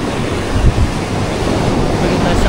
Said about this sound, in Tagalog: Pinakita ko lang yung konting clip ng dagat dito.